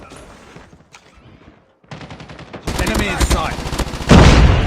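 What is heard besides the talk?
Type25 rifle gunfire in a video game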